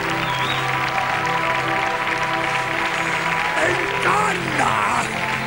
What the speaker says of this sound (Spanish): ¡Aplauso!